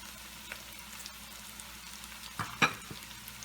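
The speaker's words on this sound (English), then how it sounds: "after around 3 minutes you stir fry the onion, you put garlic just" Onion and garlic stir-fry in a pan for vegetarian pasta, a soft steady sizzle with a couple of brief clattering stirs near the end, close and fairly quiet.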